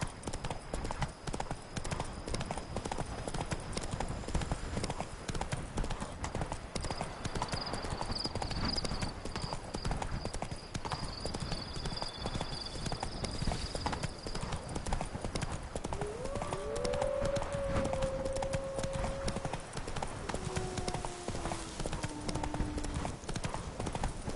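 Roach the horse walks in The Witcher 3: Blood and Wine, hooves clip-clopping in a steady rhythm, quiet and continuous, with brief bits of speech and other game sounds.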